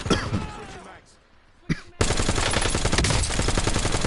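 Dense automatic gunfire from Black Ops 6 Warzone rattles in close, loud bursts. It drops out briefly for a quiet gap with a single sharp crack, then resumes as a sustained, rapid volley.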